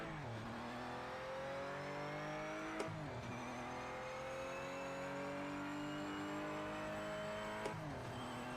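Hypercar engine in the racing game Project Motor Racing, a steady loud drone with rising pitch through the gears, two sharp clicks of gear changes, no talking.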